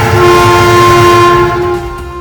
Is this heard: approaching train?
yes